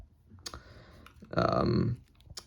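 Triggers on a Nintendo Joy-Con controller are pressed, giving a handful of sharp, close clicks spaced irregularly, with a short louder rustling burst midway through.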